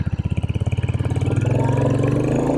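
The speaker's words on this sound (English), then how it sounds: "This is a fun motorcycle for sure." A Royal Enfield Hunter 350 single-cylinder motorcycle engine runs up close, loud and steady, its pulsing thump quickening as the bike accelerates.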